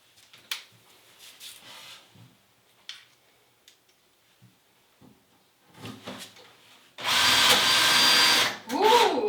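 Power drill driving long screws into thick steel profiles, one loud whirring run near the end that ends in a falling pitch as the screw seats, after quiet clicks and handling noises.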